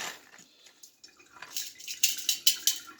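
Water is poured into a rock tumbler barrel in short splashing bursts, quiet at first then growing louder and more rhythmic toward the end.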